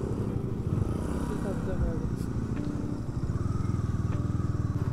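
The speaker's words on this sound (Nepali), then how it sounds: "अब आई लभ दिस बाइक है" A Bajaj Dominar 400 motorcycle being ridden, its engine giving a low, steady rumble with rhythmic pulsing, close and continuous, while faint speech is heard over it.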